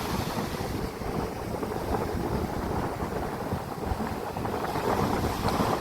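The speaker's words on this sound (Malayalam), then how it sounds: "കാറ്റ്, നല്ല കാറ്റല്ലേ?" Strong coastal wind at Alappuzha near a lighthouse buffets the microphone in a loud, unbroken roar that lasts throughout, with no talking.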